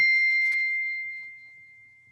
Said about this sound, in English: And you just ring the bell.